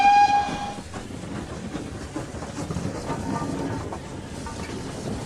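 A train rumbles along with a steady low roar and faint rhythmic clatter, opening with a brief high horn or whistle tone.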